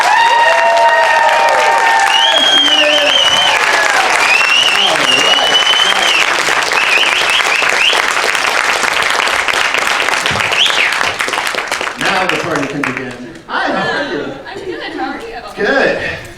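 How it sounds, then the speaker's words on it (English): Loud, sustained applause with cheers and chatter from a Texas Frightmare Weekend 2021 convention crowd welcoming guest Jodelle Ferland, fading near the end as voices take over. "let's show her a really, really big Texas round of applause"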